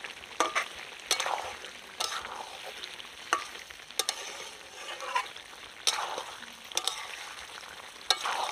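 Country chicken curry fries in a pan, village style, with a continuous sizzle broken by regular scrapes and knocks of a spatula stirring the masala, close and fairly loud, with no talk.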